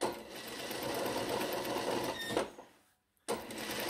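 A sewing machine stitches a blouse seam in a steady close whir, cutting out briefly for a moment of near silence before starting up again.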